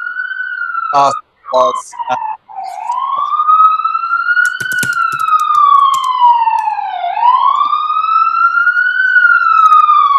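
Fire engine sirens outside, a loud, clear wailing tone that sweeps slowly up and down for several seconds, close enough to dominate, with a voice heard briefly at the start.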